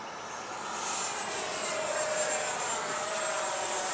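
An FMS Avanti 90mm electric ducted-fan RC sport jet flies tight aerobatic turns and loops, giving a steady high whine and rushing roar that swells a little as it passes, heard at a distance with no talking.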